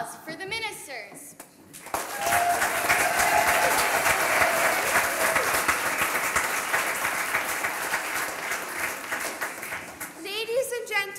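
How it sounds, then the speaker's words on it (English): A packed hall claps for cast members at a school panto of The Emperor's New Clothes, the applause rising quickly and holding strong and steady for around nine seconds, with a presenter speaking just before it starts and as it fades. "Give a round of applause for the ministers."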